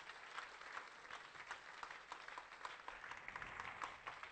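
A church congregation claps in a quiet, fairly steady rhythm of many hands, sounding distant and soft throughout.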